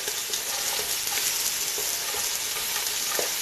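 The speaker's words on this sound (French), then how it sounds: "Dans cette marmite où j'ai préchauffé 2 petites larmes d'huile, je verse tour à tour les oignons" Onions frying in hot oil in a pot for an okra and oxtail sauce, giving a steady, dense sizzle and crackle close by with faint stirring, no voices.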